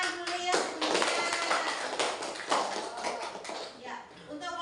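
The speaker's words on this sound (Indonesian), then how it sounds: "Yuk, untuk kelompok lain, tepuk tangan dulu ya semuanya." Third-grade elementary students clapping together in a classroom, a dense patter of hand claps that runs through the whole moment, with a teacher's voice and children's chatter mixed in.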